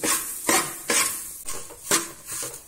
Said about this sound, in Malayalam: ഇത് നന്നായിട്ട് ഇളക്കുക.